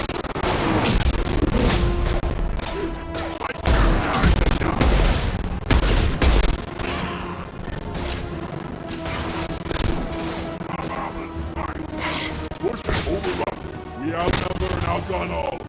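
Dense gunfire volleys from the video game Mass Effect, loud and continuous with repeated blasts and crashes, mixed with a game soundtrack and occasional voices throughout.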